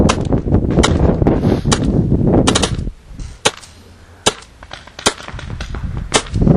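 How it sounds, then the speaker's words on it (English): A 2009 Proto SLG paintball marker fires over a chronograph: a rapid string of sharp pops over a loud continuous mechanical whir, followed by several single spaced shots after the noise drops, all close and loud with no talk. "let's go ahead and shoot a couple over the chronograph"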